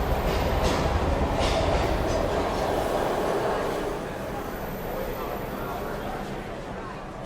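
A train rumbles past in the video game Heavy Rain, a steady loud roar with rail clatter that eases slightly partway through, with speech over it.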